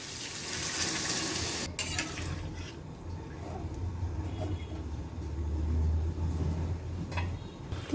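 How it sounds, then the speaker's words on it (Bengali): Water poured into a pan of browned, cooking meat makes a rushing, bubbling hiss under a low rumble, with a sharp clatter near the start and no talk. "জলটা দিয়ে দিই"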